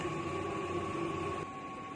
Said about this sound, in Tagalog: ito po ang sublimation machine namin dito sa Transfer 8999. Andito po ang aming printer head.